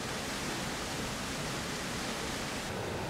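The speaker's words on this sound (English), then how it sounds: "This waterfall basin is known as the Emerald Pool." The waterfall at the Emerald Pool in Dominica's rainforest roars as a steady, dense rush of falling water, loud and unbroken throughout with no voices.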